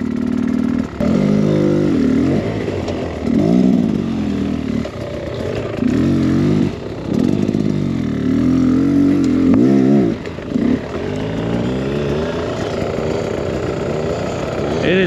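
A dirt bike rides a soft-ground woods trail on tall gearing, its engine revving and dropping in repeated bursts as it works through tight corners, fairly close and loud throughout, with no talk over it.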